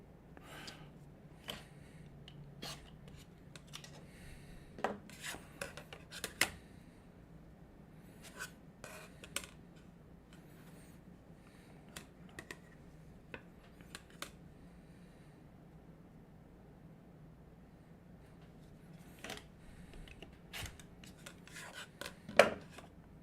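Quilt block fabric pieces are trimmed with faint scattered cutting clicks and soft rubbing sounds, irregular and quiet, over a low background hum.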